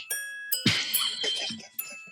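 A watch chime rings out as several bright, ringing tones, each struck note decaying and overlapping the next in a short melodic sequence, fairly close and clear with no talking.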